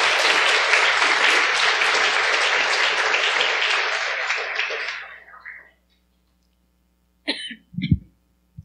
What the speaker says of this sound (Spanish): Y otro aplauso más fuerte a nuestro Señor, dándole gracias por esas 3 personas.